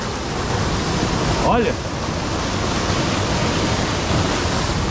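Water pours steadily into a natural rock pool at a waterfall in Chapada dos Veadeiros, a constant broadband rush filling the scene, with a brief spoken word over it.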